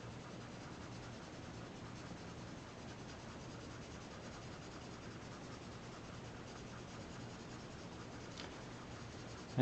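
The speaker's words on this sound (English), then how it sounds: "Kind of rolling the pencil some as I work in this darker area." A graphite pencil shades on paper in a quiet, continuous scratchy rub, faint and close, with the pencil rolled slightly while filling a darker area of a fruit drawing, no voices.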